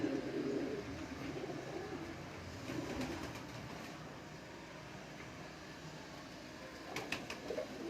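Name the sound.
pet pigeon named Batera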